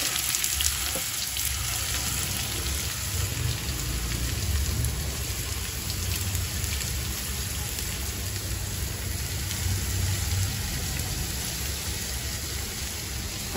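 Chopped onions fry in hot oil with mustard seeds for a squid fry, a continuous crackling sizzle that holds steady and close throughout.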